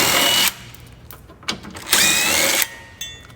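Short bursts of a power drill or impact driver whirring as it removes skid plate bolts on a diesel Jeep Wrangler, three separate runs with quiet pauses between them.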